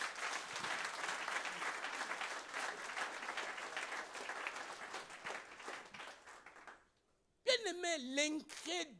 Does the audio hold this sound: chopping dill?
no